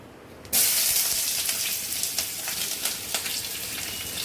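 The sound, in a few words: onion and chilli frying in hot oil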